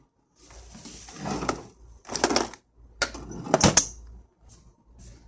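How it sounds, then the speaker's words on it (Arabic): Screws being unscrewed by hand with a screwdriver from the back panel of a washing machine, heard as several short scraping, creaking bursts with brief pauses between them, close by and fairly quiet, with no talking. "نبدأ نفتح هذه المسامير لما يظهر معنا مكان التصريف"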